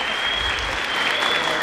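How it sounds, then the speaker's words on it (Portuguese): Steady, close applause from a church audience greeting a volunteer, a continuous wash of clapping with no talk over it. "Um aplauso para o Tiagão."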